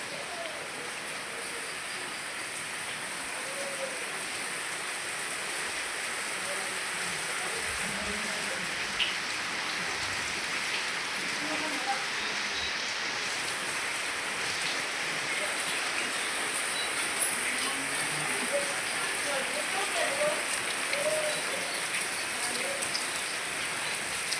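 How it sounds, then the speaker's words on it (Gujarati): Heavy rain pours steadily for the whole stretch, a dense even hiss of drops on surfaces with occasional faint voices and soft background sounds underneath. "બે દિવસથી વરસાદ જોરદાર પડે છે"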